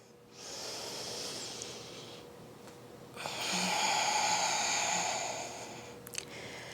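Slow, deep breathing during a gentle yoga hip stretch, with a long soft inhale followed by a fuller, louder exhale, close and airy in a quiet room, with no talking.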